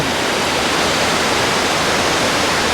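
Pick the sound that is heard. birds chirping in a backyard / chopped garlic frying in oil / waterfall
waterfall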